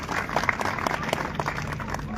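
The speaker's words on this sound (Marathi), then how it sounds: "आपण सर्वांनी आपल्या स्वतःसाठी सर्वांसाठी टाळ्या वाजवायच्या आहेत" An audience at an Ambedkar Jayanti gathering claps steadily, a dense crackle of many hands applauding together at moderate loudness for the whole stretch, without pauses.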